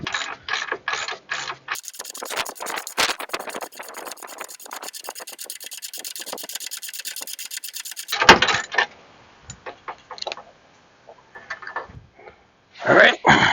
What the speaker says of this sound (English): we'll just hand remove the nut and then pull this out